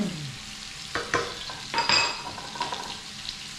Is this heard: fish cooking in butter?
yes